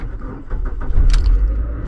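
Car ignition with a key: brief key jingle and clicks, followed by the engine catching and settling into a low idle rumble, close and short.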